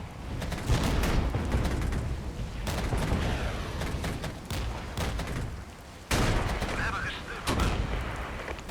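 Sustained battlefield gunfire and distant booms from the war game Regiments roll on continuously, dense crackling volleys with occasional louder bursts and no clear voices over them.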